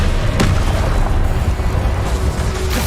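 Incendio fire spell cast in Hogwarts Legacy, a loud, dense roaring blast with a sharp burst near the start and sustained heavy rumble throughout.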